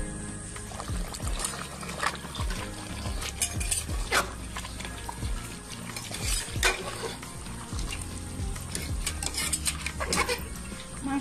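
Mutton being stirred and sautéed in a pot for a homemade rezala, with repeated spoon scrapes and clinks against the metal over a steady sizzle, close and continuous with no talk.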